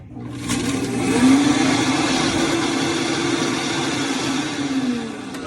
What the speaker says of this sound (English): I'm just gonna throw this in the Vitamix.